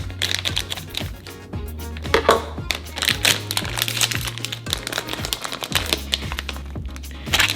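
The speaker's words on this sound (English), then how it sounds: "Gonna use my scissors." Scissors snipping and crinkling through plastic toy packaging for a surprise egg accessory, with a rapid series of sharp cuts and rustles close to the microphone.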